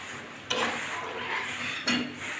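Potato and pointed gourd curry being served from a pan onto a plate, with close scraping and two sharp utensil knocks over a soft background hiss.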